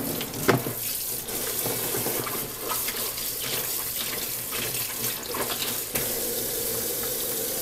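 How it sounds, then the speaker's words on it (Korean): Tap water runs steadily into a sink while a goalkeeper glove is rinsed under the stream, a continuous close splashing rush with small irregular bursts as the glove moves through the flow. "왼손은 물 샴푸로 먼저 세척 한번 해볼게요."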